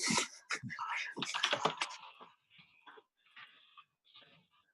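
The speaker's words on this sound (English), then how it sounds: "Okay, so I'm typing here." Someone types on a computer keyboard, with dense clusters of sharp clicks at first, then sparser taps trailing off. The keystrokes are close but faint.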